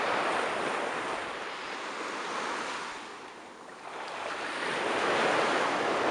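Ocean waves wash steadily onto the shore, a broad continuous roar of surf that swells and ebbs over several seconds, with some wind rumble on the microphone and no voices.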